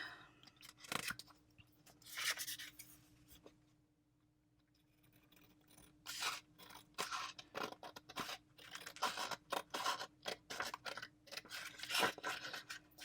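Close, quiet crisp snips of small scissors and crunchy paper rustles come in irregular bursts, with a brief lull partway through.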